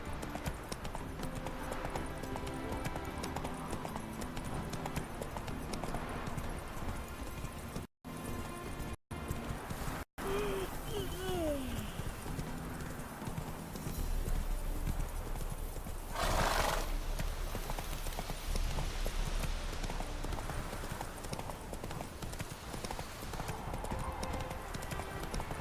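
In The Witcher video game, a horse's hooves clip-clop steadily at a walking pace throughout, with neighing and whinnying rising over the hoofbeats and ambient game sound beneath.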